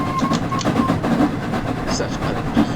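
The Flying Scotsman steam locomotive runs along the East Coast Main Line in Train Sim World 4, giving a steady rolling rumble with rhythmic rail clatter and a faint whistle-like tone, while someone talks quietly over it.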